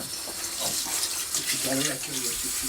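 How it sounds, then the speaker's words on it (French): Water spraying from a garden hose onto a roast, a steady broadband hiss running throughout with voices talking over it. "Mais pourquoi il arrose le rôti avec un tuyau d'arrosage?"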